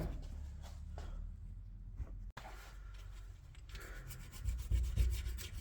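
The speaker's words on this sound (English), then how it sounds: "Just going to spend a bit of time filing up these, getting the rust out of the reluctor ring here" A hand file rasps rust and scale off the reluctor ring of a Jaguar XKR X150 during rear wheel bearing work, producing close, irregular scraping strokes with a brief pause midway.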